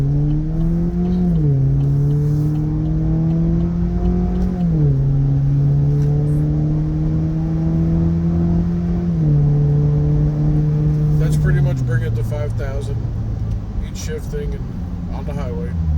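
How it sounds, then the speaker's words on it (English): A 2023 Chevrolet Silverado with the 2.7 turbo and its muffler and resonator deleted pulls away with the windows shut. A steady, droning engine note climbs and drops through several gear shifts, heard from inside the cab. "here's windows shut doing the takeoff with the muffler resonator delete"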